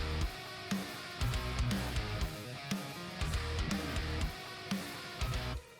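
Heavily saturated metal guitar riff, with full saturation applied to the second band of a multiband processor. Chugging palm-muted low notes punctuated by rhythmic accents, loud and dense, with no talking.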